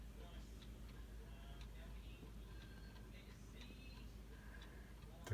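A cuckoo clock on a wall ticks with a steady, faint rhythm against a low hum, with a brief louder knock at the very end.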